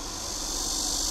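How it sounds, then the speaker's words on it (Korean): Cicadas shrill loudly and continuously in summer outside the open window of a Porsche Cayenne E-Hybrid, a dense steady high drone with no voices. "밖에 저렇게 매미들이 아주 시끄럽게 울고 있는데요"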